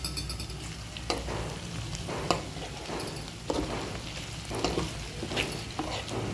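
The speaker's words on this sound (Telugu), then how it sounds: "చూసారా, ఉల్లిపాయ ఇలా మగ్గుతుంది." Onions for bitter gourd curry soften in a pan with a quiet, low sizzle, dotted with occasional soft clicks and scrapes of a spatula.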